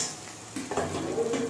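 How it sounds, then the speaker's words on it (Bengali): Onions fry on a high flame with a soft sizzle, and a brief burst of stirring scrapes across the pan. "ফ্লেমটা হাই করে দিই, তো দেখুন পেঁয়াজগুলো এইভাবে ভাজা হবে হালকা ভাবে।"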